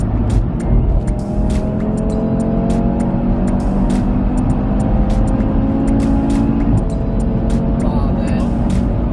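An Audi RS3 8V facelift drives and accelerates hard, its engine loud and steady throughout with rising harmonic tones, while people talk over it inside the car.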